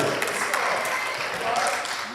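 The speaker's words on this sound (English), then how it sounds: "Can y'all clap for that right there?" Church congregation applauding at Fairway to honor a new deacon, a dense continuous wash of clapping from many people that fills the room, with voices mixed in underneath.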